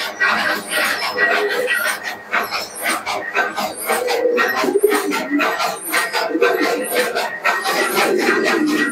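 A male Giribaz teddy pigeon coos in soft repeated phrases over a busy, noisy background, with a voice talking at times.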